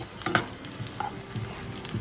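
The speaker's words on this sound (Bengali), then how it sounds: "এই যে এখন একটু বেরেস্তা ভাজা হচ্ছে" Onions sizzle in reused fish-frying oil for beresta, a soft crackling hiss with a few sharp stirring scrapes and taps.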